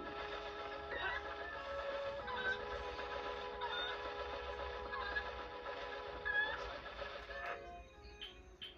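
A chicken clucking in the video game Zelda Twilight Princess, with repeated soft clucks layered over steady tonal game music, moderately quiet, with no talking.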